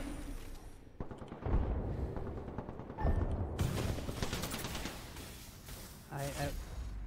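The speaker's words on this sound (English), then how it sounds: "they're just gonna keep firing grenades" Rapid bursts of grenade fire in the Apex Legends battle royale game crackle through a dense, busy mix of shots and mechanical clatter, swelling louder around the middle, with voices talking at times.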